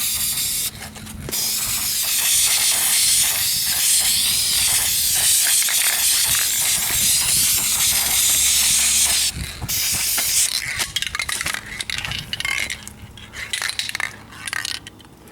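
A Duplicolor Perfect Match spray can lays a third coat of paint on the rear bumper of a 2004 Kia Spectra, with a loud, close, continuous hiss broken by short pauses and sputtering bursts as the can nears empty.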